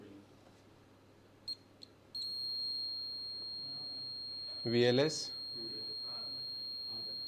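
A multimeter set to continuity gives a steady, unbroken buzzer tone while probing a shorted AVDD line to ground on an LED TV panel. A couple of short clicks come first, and a brief voice cuts in over the tone.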